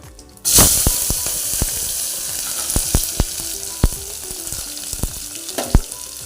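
Onions hit a pan of hot oil over low heat for a ridge gourd curry, breaking into a loud, sudden sizzle that keeps crackling, with repeated sharp clicks and pops.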